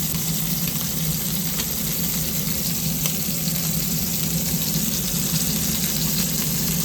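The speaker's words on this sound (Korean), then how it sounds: "지금 살짝 기름이 제 손을 튀기고 있지만" Oil sizzles and spatters steadily in a pan, a constant crackling hiss with occasional sharper pops, close and fairly loud.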